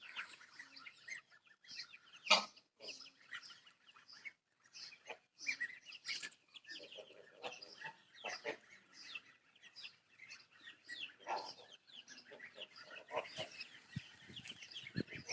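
Young chicks chirp in quick, high bursts while running loose on fresh green grass in a village yard in summer, a steady scatter of thin peeps with a few louder calls from nearby poultry.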